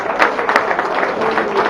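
Spectators at a town associations' parade in Le Carbet applaud the children and young people marching, a wash of mixed crowd clapping with a few sharper claps standing out, moderately loud and continuous.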